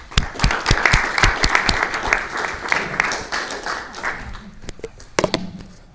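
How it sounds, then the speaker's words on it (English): Audience at a discussion event on the risks of AI applauds as speakers are invited up, a warm burst of clapping that swells quickly then thins out, with a few final scattered claps. "A nice big round of applause."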